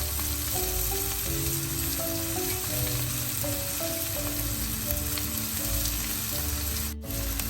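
Long beans sautéing in a pan for a Tamil-style stir-fry, a continuous close crackling sizzle with light stirring, and a faint tonal hum running underneath.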